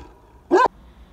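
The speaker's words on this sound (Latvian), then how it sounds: "melnais suns." A large black dog gives a single sharp, loud bark near a former infectious diseases hospital, then quiet.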